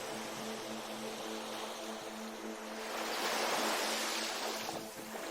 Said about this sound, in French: Bercés par le bruit des vagues